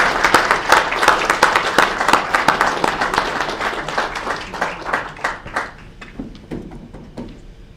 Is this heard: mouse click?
no